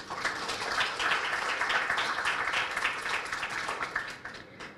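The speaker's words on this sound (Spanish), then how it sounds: "para quienes voy a pedir un fuerte aplauso" An audience at an economic and trade forum in Santa Cruz applauds the invited guest speakers: steady, dense clapping from many hands, sustained and fairly even before thinning out at the end.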